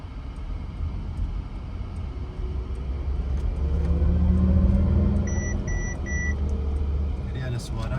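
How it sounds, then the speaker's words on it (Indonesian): A Mercedes-Benz in sport mode emits an artificial spaceship-like hum as it speeds up, a low rumble and rising synthetic drone that swells mid-clip, with short beeps later and people talking. "Jadi ada suara seperti suara apa ya, suara pesawat luar angkasa deh."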